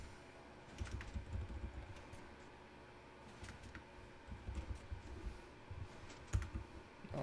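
Faint computer keyboard typing during a Minecraft session, with irregular bursts of soft key clicks and taps separated by brief pauses, quiet and close with no talking.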